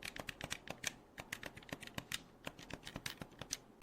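Action buttons on a PC and Xbox gaming controller are pressed in a quick series of crisp, close plastic clicks in a fast irregular rhythm, with no talking.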